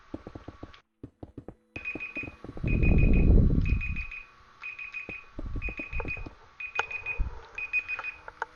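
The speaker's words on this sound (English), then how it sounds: "That's my timer going off." A kitchen-style timer beeps in a repeating pattern of short electronic tones, steady bursts across the whole stretch, while a louder low rumble swells underneath midway and scattered clicks and bumps come and go.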